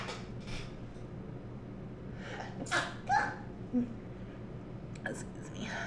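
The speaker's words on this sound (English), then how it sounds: "I gotta sneeze." A single person's sneeze, preceded by a quick breath in, sounds close by in a quiet room and stands out clearly above soft background noise.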